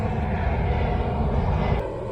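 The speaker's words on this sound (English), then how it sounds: "Now a huge airplane is going over me." A large airplane roars overhead outdoors beside fishing water, a loud, steady low engine drone filling the whole stretch without voices.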